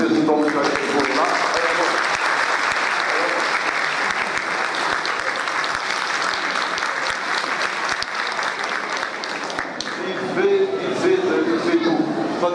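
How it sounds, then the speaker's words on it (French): Audience applause fills a diploma ceremony hall, a dense, steady clapping from a large crowd that runs loudly throughout, with a voice speaking over it near the end. "Vous avez le deuxième qu'il faut applaudir, c'est le groupe Achaïbo"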